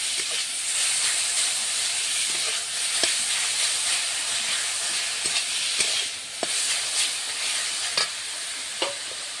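Washed, drained leafy greens fry in a pan, giving a steady close sizzle and hiss with occasional stirring clicks and scrapes, no voices.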